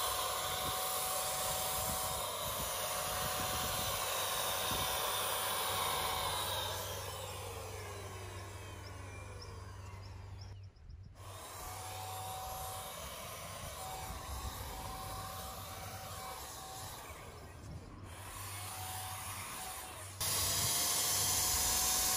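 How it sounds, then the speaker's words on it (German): Wagner W 590 FLEXiO paint sprayer coating a garden fence outdoors, a loud continuous airy hiss with a steady motor hum that holds for long passes, broken by two brief pauses between bursts. "Jetzt kann gesprüht werden."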